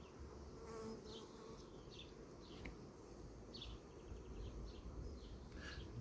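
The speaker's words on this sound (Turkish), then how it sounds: "dikkat ederseniz biraz sonra bir arı gelecektir muhakkak." A steady insect buzz of many honey bees at a hive entrance, with individual buzzes swelling and fading as they fly close past, continuous throughout with no voices.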